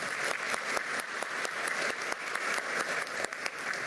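An audience at a medal award ceremony in a government palace applauds steadily, a dense, even wash of clapping from a crowd heard slightly at a distance.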